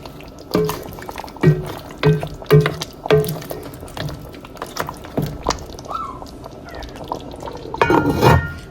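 Butter beans stirred into oxtail gravy in a pot for Jamaican oxtail, a close, wet series of spoon strokes and soft scrapes with small clinks against the pot, with no one talking.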